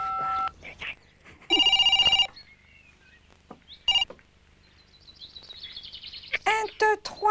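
A telephone is dialed, with a run of electronic dialing tones, then a single short tone and some chirpy electronic warbles, with a voice speaking at the end.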